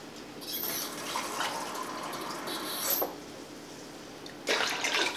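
Hot water runs from a kitchen tap into a container for bread dough, a steady near pour with a brief pause around the third second before flowing again more brightly at the end.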